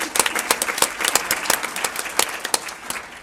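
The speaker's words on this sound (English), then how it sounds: "Round of applause." Audience at an environmental summit symposium applauding a speaker, a smaller, less dense round of clapping where individual hand claps stand out in an uneven, lively rhythm.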